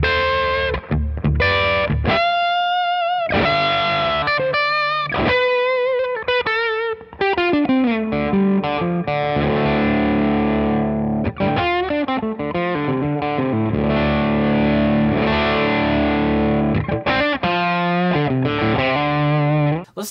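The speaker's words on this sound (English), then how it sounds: "Nordland ODRC, that's like kind of a classic Nobles ODR kind of sound." An electric guitar played through a Nordland ODR-C overdrive pedal gives a loud, continuous overdriven tone with sustained chords and single notes across the whole passage, with no talking.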